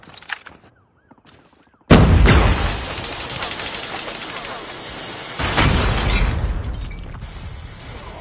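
A Semtex grenade goes off in a first-person shooter match: a sudden loud blast at about two seconds, then a dense rumble with gunfire-like bursts and a second heavy surge later, preceded by faint game sounds.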